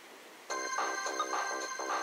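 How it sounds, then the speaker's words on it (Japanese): A phone rings in the Marmalade Boy romance simulation video game: a bright electronic ringtone repeating in short melodic bursts, loud and clear with no talking. "電話かかってきましたね"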